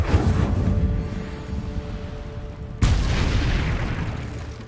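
An Incendio fire spell goes off in Hogwarts Legacy, a deep booming burst with a roaring tail, then a second sudden blast that rolls on and fades.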